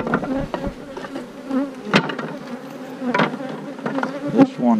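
A dense, close buzzing of honeybees being moved into nucleus hive boxes hums steadily, with occasional sharp knocks and clicks of wooden equipment cutting through.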